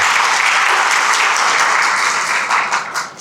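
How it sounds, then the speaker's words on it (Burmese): An audience at a motivational business lecture claps, making a sustained, dense wash of applause. It holds steady, then thins into scattered claps and fades toward the end. "သဘောကျရင်လက်ခုပ်လေးတီးလိုက်ပါဦး"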